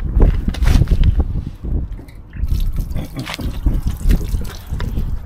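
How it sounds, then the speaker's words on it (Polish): Grey water gurgles and splashes as it drains out of a camper van, an uneven trickling flow that surges and eases over a few seconds. "Dobra, zrzucamy szarą wodę."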